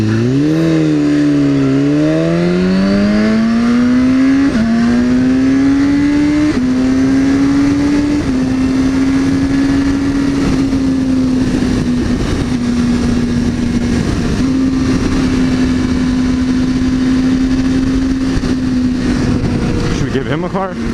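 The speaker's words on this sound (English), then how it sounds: "It's a Lambo." A Lamborghini Gallardo engine revs loud and close, its pitch climbing through a few quick blips before settling into a sustained, steady high roar that carries on for many seconds.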